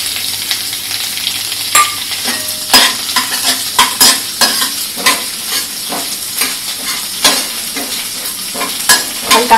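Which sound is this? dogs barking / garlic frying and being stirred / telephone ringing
garlic frying and being stirred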